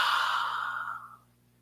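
A single slow, breathy exhale during guided yoga nidra meditation, close and soft, fading out over about a second over a low steady hum.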